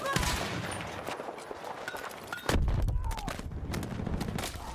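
Gunfire and stun grenade blasts fill a Battlefield 6 match, with rapid bursts, sharp reports and heavy booms layered over a chaotic battlefield din, loud and continuous.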